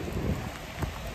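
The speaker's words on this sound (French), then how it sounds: "Je me suis fait emporter par la pluie." Rain falls steadily outdoors, a dense close patter with brief louder gusts and no speech.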